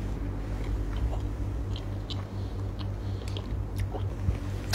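Someone chews jelly close to the mic, with soft wet bites and squelches scattered over a low steady background hum.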